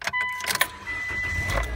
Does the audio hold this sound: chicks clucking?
no